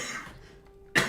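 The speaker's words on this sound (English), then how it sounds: "Sorry for all the coughing." A single harsh cough bursts out abruptly at the end after a quiet stretch, close and fairly loud, from a person who is unwell.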